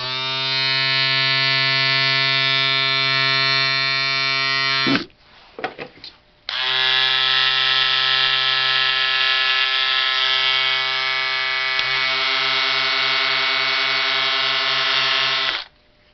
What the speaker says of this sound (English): I think the Wahl shaver might be a bit louder